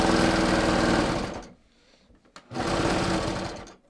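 A sewing machine runs at speed while hemming lined leggings, buzzing loudly for about a second and a half, pausing briefly, then starting again for another burst.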